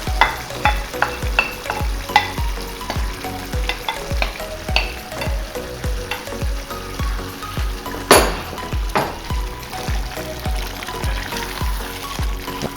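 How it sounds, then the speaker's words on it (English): Tinned tomatoes stirred into a frying bolognese ragu, with a spoon scraping and knocking the pan in a steady quick rhythm over continuous sizzling, close and fairly loud. "While I'm stirring, going to squeeze them so that all the juice comes out of them and leave their flavors."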